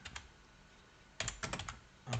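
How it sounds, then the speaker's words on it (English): Fingers type on a computer keyboard at a Kali Linux workstation: a short burst of clicks, a pause, then a quicker cluster of keystrokes and one final tap, close and quiet. "So I will type"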